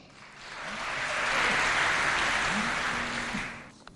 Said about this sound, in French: et ce, sous vos applaudissements.